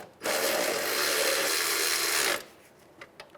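A power tool snugs a bolt while a 2003-2011 Honda Element alternator is replaced, giving one loud, steady whirring burst of about two seconds close by, followed by a few faint clicks.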